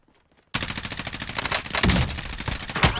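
Rapid automatic gunfire from a Call of Duty Warzone match, loud and sustained bursts after a brief quiet start, with a few heavier shots near the end.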